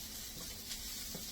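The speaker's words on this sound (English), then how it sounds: "then put it in the frying pan" Soft, steady sizzling of food frying in a pan, a gentle continuous hiss with faint crackles.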